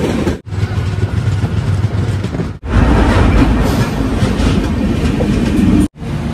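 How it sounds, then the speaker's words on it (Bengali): The 13151 Jammu Tawi Express pulls out of Kolkata, heard from on board as a loud, continuous rumble with steady clickety-clack from the wheels, broken by two brief gaps, and no talk. "প্রভু রামের নাম নিয়ে কলকাতা থেকে আমাদের ট্রেন ছেড়ে দিল অযোধ্যার দিকে"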